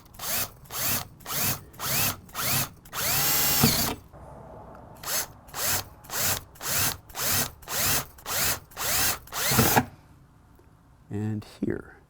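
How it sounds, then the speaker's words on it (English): A power drill bores holes into an RV body in a rapid series of short, loud bursts, one longer continuous run, then another string of bursts, close up, ending with brief quieter sounds after a pause. "drilling holes into your vehicle never feels good"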